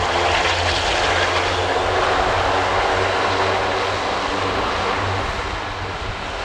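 An Airbus A400M Atlas turboprop taxis along the runway at the RIAT airshow, producing a loud, continuous roar of propeller engines that holds steady and then eases off slightly toward the end.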